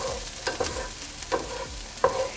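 Warm vegetables are stirred and shoved to one side of a frying pan for fried rice, giving a few distinct scraping clacks against a soft, steady sizzle with no voices.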